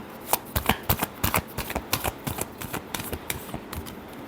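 A deck of tarot cards being shuffled, a quick run of crisp riffling snaps and flutters, close and fairly loud, with no voice over it.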